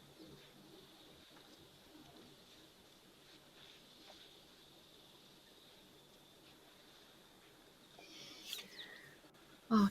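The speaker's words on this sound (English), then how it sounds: "the birds are so relaxing. It's lovely just hearing their calls in the background" Dove-like cooing birds calling softly in the distance at a wildlife waterhole, quiet and intermittent over a faint background, with a brief louder rustle near the end.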